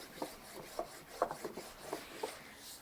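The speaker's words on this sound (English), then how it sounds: "I'm going to burnish this down" Masking tape, two inches wide, rubbed down firmly onto wood along a center line, giving a series of short dry rasping strokes in an uneven rhythm, close and faint with no talk.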